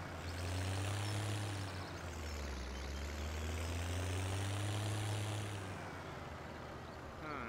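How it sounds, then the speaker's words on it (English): Tractor engine straining in a farming video game with an Akron bagger mod, a steady low drone that rises and falls in pitch under load, continuous and fairly loud before easing near the end. "I don't know why this tractor struggles so much"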